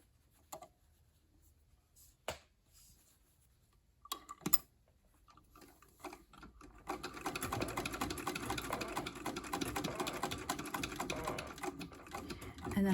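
A sewing machine stitches a cloth face mask, with a few isolated clicks and handling sounds at first, then a steady rapid mechanical whirr of stitching running at moderate volume nearby, under a talking voice.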